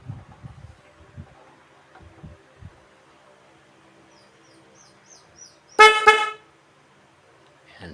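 A car horn, just wired through a relay, gives one short, loud honk after some quiet clicks and handling noises.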